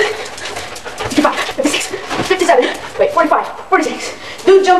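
A dog whimpers and yelps in short, high, rising cries mixed with excited vocal sounds during a home jumping-jack workout, close to the microphone.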